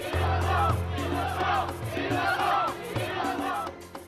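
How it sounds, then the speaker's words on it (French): A crowd of many people shouting together in anger after a French court verdict, loud overlapping voices rising and falling in waves with a low hum underneath. "provoquant la colère de la foule."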